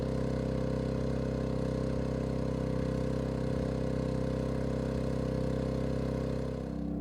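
Maxpeedingrods 4000GT inverter generator running steadily at its first setting, a constant close humming drone with no talk, easing slightly at the very end.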